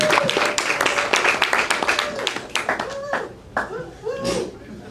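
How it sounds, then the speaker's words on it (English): An audience at an open mic comedy night claps in a dense burst of applause, the clapping thinning out as a few people shout and whoop over it. "clap it up for the very funny Miss Rachel Blavatnik, everybody. Clap it up for her."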